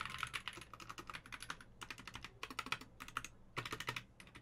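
Bursts of rapid, close typing on a computer keyboard fitted with new custom multicolored keycaps, crisp clacking keystrokes separated by brief pauses, with no voices.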